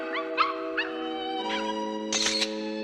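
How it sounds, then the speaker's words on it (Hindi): A cartoon dog in Doraemon howls and whimpers in a few short, high, wavering yelps, the last one longest, over a sustained musical tone, fairly faint. "अभी मैंने एक डॉग की आवाज सुनी।"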